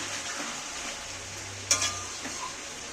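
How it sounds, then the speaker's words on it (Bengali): Onions soften and sauté in a pan as they are stirred, a faint steady sizzle with a quick scrape or clink of the spoon against the pan midway. "আমি এটাকে একটু এইভাবে কিছুটা কিছুক্ষণ সময় একটু কষতে থাকবো এটা নাড়তে নাড়তে দেখো পেঁয়াজটা অনেকটাই নরম হয়ে গলে এসছে"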